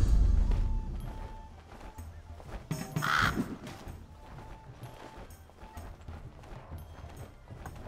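A bird caws once in the fantasy adventure video game For the King, a loud, sharp call in the middle of a busy mix of hoof-like clopping and game sound effects.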